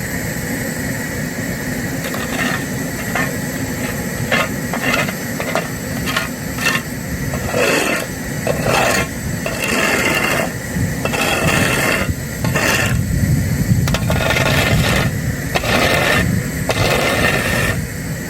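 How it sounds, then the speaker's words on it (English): A shovel blade scrapes and rasps as it trims around a catch basin and the edges of a fresh asphalt patch, repeated gritty strokes over a steady engine drone nearby. "Now I'm just going to use a shovel and just trim around the catch basin and the asphalt patch edges for a clean finish."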